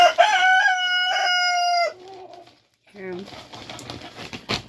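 Roosters crow loudly and close, one long crow followed by another shorter one, with clucking and outdoor bird noise afterward.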